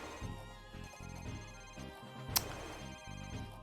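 A cell phone rings in the video game Ace Attorney: Dual Destinies, a faint melodic ringtone of short repeating tone bursts in a steady rhythm. A brief sharp chime cuts in once partway through.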